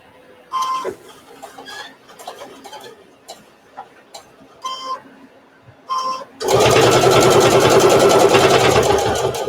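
A sewing machine stitches through thick layers of fabric for a bowl mitt, loud steady whirring and rapid needle clatter running continuously after a stretch of scattered handling clicks and quiet pauses.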